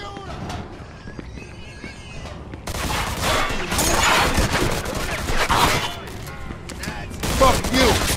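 Gunfire from a shootout in the video game Mafia II, a dense burst of shots from about three seconds on, loud and close, mixed with shouting voices and other game sounds.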